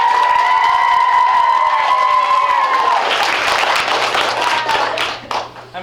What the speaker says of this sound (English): And again, another special round of applause for Mrs.